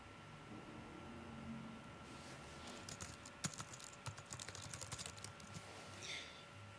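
Typing on a computer keyboard, a quiet, close run of irregular key clicks starting after a short hush and continuing in quick bursts over faint steady background hiss.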